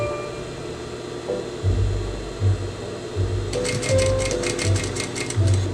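A sewing machine stitches together the main bodice and back bodice of a solar eclipse dress. After a few quieter seconds of low hum, rhythmic bursts of needle clatter start, close and steady.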